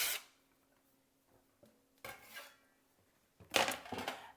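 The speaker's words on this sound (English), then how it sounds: "Now I'm going to put the onion." Chopped onion drops into a pot with olive oil, giving faint, close clatters and a few louder rattling scrapes of pieces hitting the metal, spaced out with quiet gaps between.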